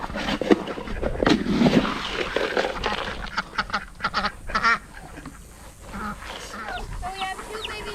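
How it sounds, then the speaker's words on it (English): Indian Runner ducks quacking outdoors at feeding time, a burst of loud nasal quacks and honks close by, then softer scattered calls, with a person calling to them in between. "ducks, come on. Come on. Come on, little Indian runners"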